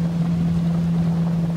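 A boat motor drones steadily on the water with a low, constant hum, mixed with wind and water noise, then begins to fade at the end.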